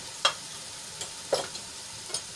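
Ginger and green chillies sautéing in a pan with turmeric, giving a soft, faint sizzle broken by a few light stirring clicks, with no talking.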